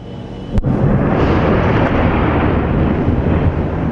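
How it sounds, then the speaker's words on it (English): A single sharp blast rings out, then a heavy, continuous rumbling roar carries on, like distant explosions echoing with no voices; explosions from Israeli airstrikes on Gaza at night. "Explosions throughout the night in Gaza as Israel launched airstrikes"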